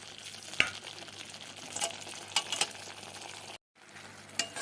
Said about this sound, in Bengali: এবার আমি দিয়ে দেব পনিরগুলোকে